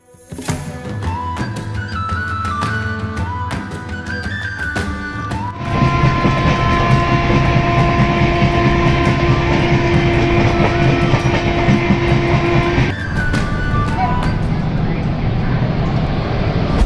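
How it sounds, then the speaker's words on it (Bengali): A train rumbles loudly into Kanpur Central station, a heavy steady roar with squealing tones and a long horn-like note, then easing slightly. "এখানে হচ্ছে ট্রেন আসলো মাত্র"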